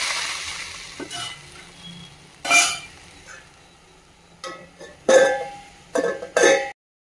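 Tomatoes being stirred in a frying pan, with soft sizzling and several short scraping bursts of a spoon against the pan, close and fairly quiet with pauses in between.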